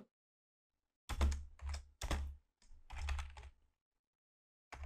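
Bursts of typing on a computer keyboard as a short message is entered, clusters of close, fairly loud key clatter separated by brief pauses, with no voices.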